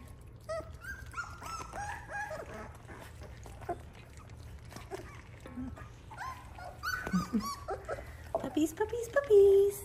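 Doodle puppies whimper and yip in soft, high-pitched cries while a person talks nearby, growing a little louder toward the end.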